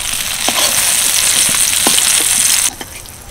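Bitter gourd slices with onion frying in oil in a kadai give off a steady, loud sizzle with a few soft stirring clicks, cutting off abruptly near the end.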